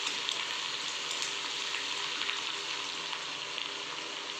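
Green chilies and garlic sizzle steadily in hot oil for chili-garlic oil, a continuous close frying hiss with small crackles and no talking.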